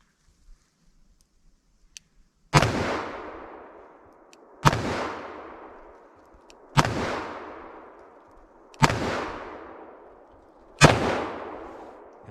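Five loud, sharp shots from a Smith & Wesson Model 69 Combat Magnum revolver firing Winchester 240 grain soft point rounds, each a booming crack with a decaying tail, spaced about two seconds apart, with no talk.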